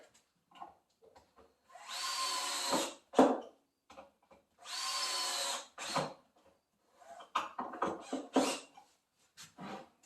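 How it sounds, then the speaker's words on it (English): A power drill drives screws into a wooden face frame in two or three whirring bursts of a second or so each, with clicks and handling knocks between, close and fairly loud against a quiet room. "fire the screw in"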